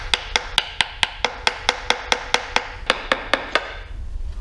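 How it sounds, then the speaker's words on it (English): The rubber back of a flathead screwdriver taps a CB750 Nighthawk motorcycle valve cover: about sixteen sharp, evenly spaced knocks in a quick steady rhythm, close and clear, with no talking. "I'm just going to use the rubber back of a flathead screwdriver. Give it a couple taps."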